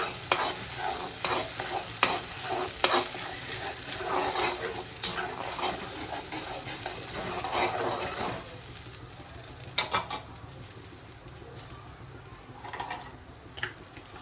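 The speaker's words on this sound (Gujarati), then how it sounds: "હવે આપણે ગ્રેવીને સારી રીતે સાતળવા દઈશું." Chana gravy stirred and frying in a pan, a spoon scraping and clattering against the metal in repeated strokes over a continuous sizzle, with a few sharper knocks near the end.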